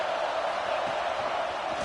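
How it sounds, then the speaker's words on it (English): A football stadium crowd at a Michigan vs UCLA game makes a steady, dense roar, a continuous wash of distant voices without distinct peaks. "This crowd bringing the energy and noise early."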